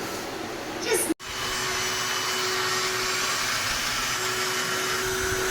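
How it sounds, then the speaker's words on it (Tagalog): A loud, steady motorized whir of an electric inflator pump blowing air into an inflatable swimming pool runs continuously, briefly cut off near the start before resuming at full strength. "gamit yung libreng inflator pump. Ayan, tingnan nyo, hinahanginan siya."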